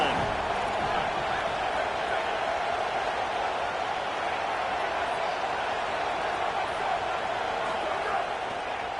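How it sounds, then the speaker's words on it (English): A football stadium crowd roars in a steady, dense wash of cheering, distant and sustained for several seconds, with a broadcast commentator's voice running over it. "This crowd ready to make its presence known."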